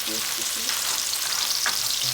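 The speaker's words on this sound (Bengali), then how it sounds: "এটার ভিতরে আমি গরম মশলা দিয়ে দিচ্ছি দারচিনি এলাচ সব কিছু এখন দিয়ে দিলাম" Whole garam masala spices, cinnamon and cardamom, frying in oil over fried potatoes, a dense, even sizzle close by with faint stirring clinks, no voices.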